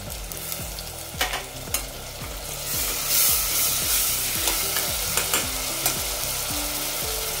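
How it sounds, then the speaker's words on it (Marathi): Turmeric and ginger-garlic paste hitting golden fried onions in a pan for dhaba-style garlic-tempered whole masoor, a steady sizzle with regular spoon scrapes and a few sharper knocks as the mixture is stirred, no talking. "आता याच्यामध्ये आपण हळद टाकून देऊया, अद्रक आणि लसूणची पेस्ट टाकून देऊया"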